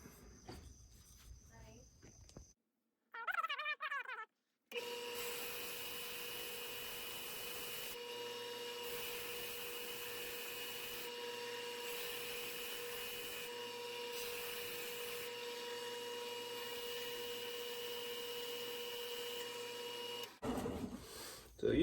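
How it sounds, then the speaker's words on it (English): Belt sander running a cheap 120 grit aluminum oxide belt while shaping knife handle scales: a steady, loud continuous whine and grind that lasts for most of the stretch, with brief talk and handling noise before it starts. "I'm just using 120 grit aluminum oxide belt, just the cheap ones."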